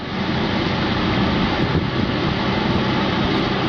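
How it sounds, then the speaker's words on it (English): A Ford Mustang V6 fitted with an MRT Interceptor axle-back exhaust drones steadily and loudly while driving, a dense, even rumble with no clear revs or pauses. "with this new exhaust system and giving you some sound bite"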